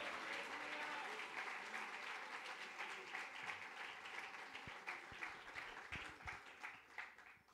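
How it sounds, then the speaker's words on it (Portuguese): A church congregation applauding together during a sermon, a sustained patter of many hands clapping that gradually thins out near the end, heard from some distance. "aplauda ao Senhor e glorifique Ele com os seus lábios"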